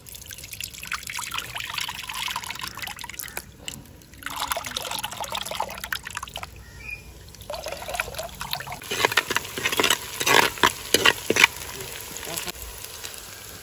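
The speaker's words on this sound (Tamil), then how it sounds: "எண்ணெய் நல்லா சூடேறிட்டு வெங்காயம் போடுது" Onions dropped into hot oil in a pan while cooking a dried vanjaram fish kuzhambu; a soft sizzle builds into crackling, spattering bursts toward the end, close and moderately loud.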